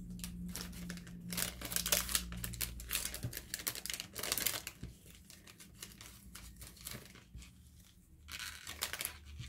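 Packaging being unwrapped by hand to hunt for the right piece, with close crinkling, rustling and tearing in irregular bursts and quieter pauses between.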